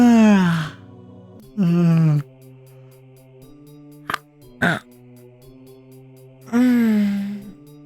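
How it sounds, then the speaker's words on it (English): A person yawns into a stretch with long, drawn-out vocal groans that rise and fall, separated by pauses and a couple of brief clicks, close to the microphone over a steady low hum. "That was a yawn into a stretch."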